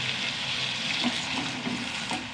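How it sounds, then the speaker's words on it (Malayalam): Steady broadband wash of sizzling and running liquid as water is poured into a frying pan with turmeric and potatoes, continuous and fairly close, with faint clinks of stirring. "ഇനി വെള്ളം ഒഴിച്ച് കൊടുക്കാം"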